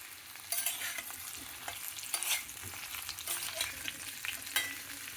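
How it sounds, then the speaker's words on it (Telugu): Bottle gourd pieces frying and being stirred in a pan, a continuous sizzle broken by scraping stirs and occasional louder crackles, close and with no voices. "ఇది సొరకాయ ముక్కలు వేయించుకోవాలి"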